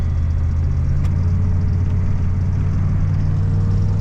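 A 1991 GMC Sierra 3500 truck drives along in second gear, its engine a steady low rumble with road noise, heard from inside the cab with no talk.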